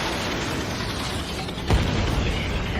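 A UAV blows up in the aerial combat game Ace Combat 7, a sharp booming burst rising out of a dense, steady roar of jet and battle noise.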